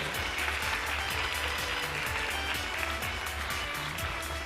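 Steady, dense clapping from a gala-concert audience in Tallinn, Estonia, continuing at even loudness throughout, with a low musical hum beneath.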